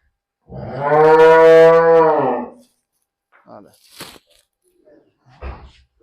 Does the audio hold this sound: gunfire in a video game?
no